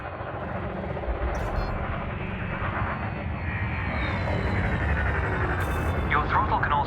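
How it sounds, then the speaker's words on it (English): A spaceship engine in the game Elite Dangerous gives a deep, steady roar of thrust that holds loud throughout and swells slightly as it speeds up, under a voice giving instructions. "Now increase your throttle to accelerate forwards."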